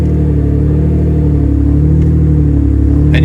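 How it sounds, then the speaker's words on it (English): A 3000GT drift car engine idles with a loud, steady rumble and dips slightly as the clutch engages in gear, the revs sagging briefly mid-clip before recovering. "you can hear it like bog a little bit because it's actually trying to roll the car"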